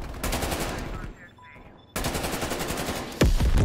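Rapid automatic fire from a Krig 6 rifle in Call of Duty: Cold War, loud and close, in two sustained bursts split by a short pause, with a heavy thump near the end.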